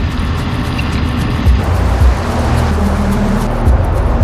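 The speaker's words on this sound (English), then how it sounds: "Other lorries and cars enter the tunnel behind him." Lorries and cars drive into a road tunnel, a steady enclosed rumble of engines and tyres with heavy low-end drone and occasional deeper swells as vehicles pass close.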